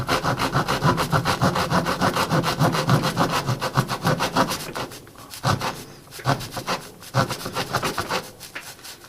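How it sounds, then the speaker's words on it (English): A multi-tool saw rasps steadily through wooden subflooring, a loud buzzing cut that later breaks into shorter strokes with brief pauses. "we have this subflooring that I've had sitting here for a while. So let's go ahead and see how well the saw does."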